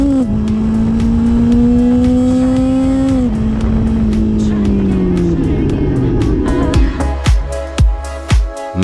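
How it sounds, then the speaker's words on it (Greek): A Honda motorcycle ridden along an island road on Lesvos, its engine note rising and falling through gear changes, loud and close, then easing off toward the end. "βρήκα την ευκαιρία να δοκιμάσω λίγο τη μηχανή που μας παραχώρησε η Honda σε ένα δρόμο που δείχνει να φτιάχτηκε για μηχανές"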